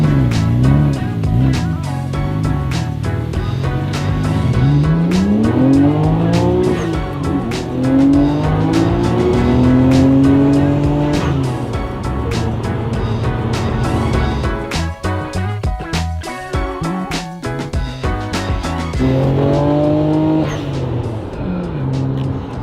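A Nissan Skyline R34 GT-R V-Spec with performance modifications drives hard, its engine note climbing and falling through repeated revs and gear changes, loud and close, with tire squeal and some brief talk underneath.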